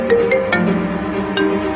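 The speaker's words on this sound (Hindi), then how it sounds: "अरे मेरा फोन आ रहा है" A mobile phone ringtone plays a short melodic tune in a room, several chiming notes over a low background hum, fairly close and without any talking.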